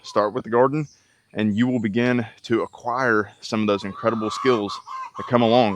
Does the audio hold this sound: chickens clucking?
yes